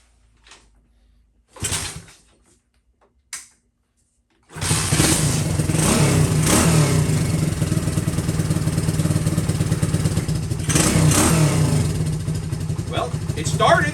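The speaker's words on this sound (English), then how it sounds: "This is first start with this new cylinder and piston." A motorcycle engine with a new cylinder and piston fires up after a few brief clunks and kicks, then runs loud and close at a rough, steady idle with occasional revs.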